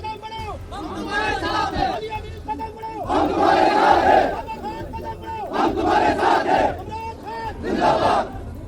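Large outdoor crowd at a PTI political rally chants a slogan in loud, rhythmic bursts, massed voices rising and falling in repeated waves with a leader's call between them.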